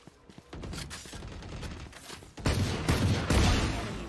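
Repeated weapon fire in a first-person shooter game, rapid shots close and loud, growing heavier toward the end.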